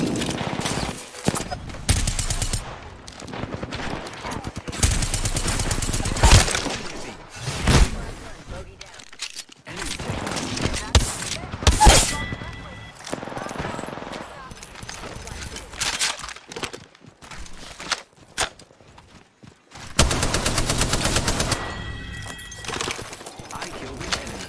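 Apex Legends gunfire: bursts of rapid automatic shots and single cracks come in clustered volleys separated by short gaps, loud and close, under and between players talking.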